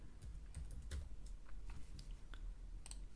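Computer keyboard typing while entering code into a Jupyter Notebook, a quick run of irregular, close, crisp key clicks with no one talking.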